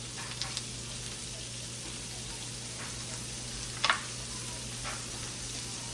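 Butter sizzles in a frying pan during a budget meal prep, a steady soft crackle under a low hum, with a few faint ticks and one brief clink partway through.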